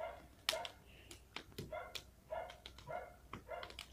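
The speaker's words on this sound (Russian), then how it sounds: "Собаки от со дворов." Several dogs bark from nearby yards in a residential area, a series of repeated, moderately loud barks and yips with short gaps between them, no talking.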